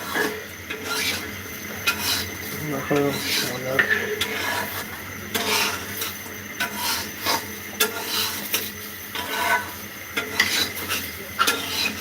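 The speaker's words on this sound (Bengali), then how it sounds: "আপনারা দেখতে পাচ্ছেন আমার সেই স্পেশাল পিঠে রান্না হচ্ছে" Special Bengali winter pitha rice cake cooking in a pan, with steady stirring, scraping and soft sizzling running throughout, moderately close, while a voice talks over it at times.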